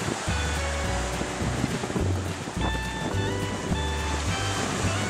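Sea waves crash and surge against the rocky shore below Paphos Castle in Cyprus, a loud, continuous wash of surf with wind noise buffeting the microphone, no voices heard.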